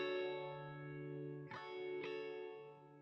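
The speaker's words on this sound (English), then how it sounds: "Here's with the phaser on." A sustained electric guitar tone rings out through a Line 6 Helix phaser effect with sweeping, swirling modulation, and two faint strums add brief accents partway through.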